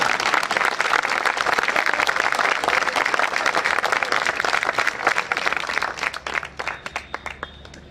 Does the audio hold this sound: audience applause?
yes